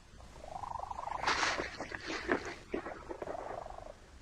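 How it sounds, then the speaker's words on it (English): A cat purrs in a soft, rumbling, steady rhythm with a rising high-pitched tone mixed in, close and fairly quiet, lasting about four seconds with no talking. "Cats have perfected a purr that we find impossible to ignore."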